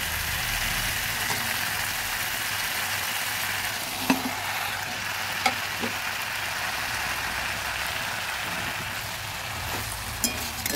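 Fried bread pieces being stirred and mixed in a pan over low heat produce a continuous sizzle, with scattered light taps and scrapes from the spatula and a low background hum.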